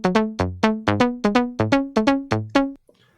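A melodic house synth lead, unprocessed: bright, plucky notes in a steady rhythmic pattern of about a dozen hits, each decaying quickly, with a clear pitched melody, dry and alone, ending abruptly.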